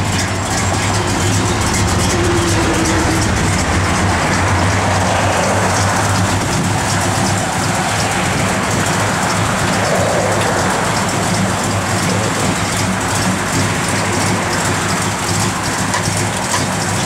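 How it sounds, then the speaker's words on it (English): Blower motor fan running inside a 1970 Dodge Coronet R/T, a steady loud whooshing hum of rushing air close by that carries on unbroken with no talking. "Anything out of the blower motor"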